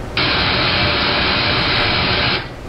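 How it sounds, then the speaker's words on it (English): Broadband white noise played as an audio demonstration, a loud, dense hiss that starts abruptly, holds steady for over two seconds and then stops, with no voice over it. "So white noise sounds like this."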